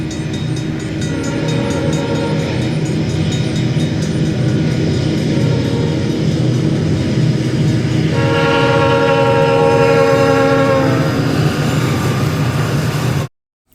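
A GP40-2 diesel locomotive, number 3004, sounding its Nathan RS3L horn in 2003: a loud sustained chord that swells partway through over the rumble of the passing train, then cuts off abruptly.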